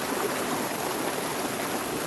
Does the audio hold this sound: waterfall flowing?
yes